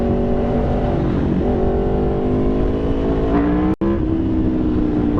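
An Aprilia Tuono V4 motorcycle engine revving, loud and sustained, roaring steadily with rising harmonic tones, briefly cutting out for an instant before continuing; no talking.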